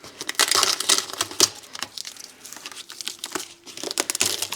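Sticky painter's tape being peeled off a Thorens TD 165 turntable, close, loud crackling and tearing bursts with sharp ticks and brief pauses, no talking.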